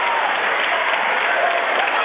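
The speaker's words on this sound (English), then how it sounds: "The Bronco crowd's getting excited" A Bronco crowd cheers in a high school gym during a boys' basketball game, Kokomo at Lafayette Jeff, as a foul is called late in the game: a loud, steady, dense roar of voices and applause filling the whole moment.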